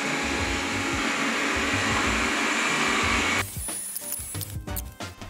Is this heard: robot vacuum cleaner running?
yes